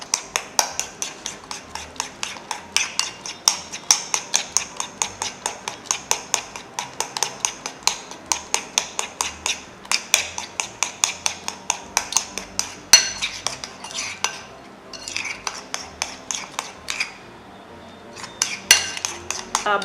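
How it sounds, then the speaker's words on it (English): A utensil scrapes and clinks rhythmically against a bowl while aloe vera gel and sugar are stirred into a scrub, quick repeated strokes close up, briefly pausing near the end, with no talking. "Now we'll mix all our ingredients together to well combine."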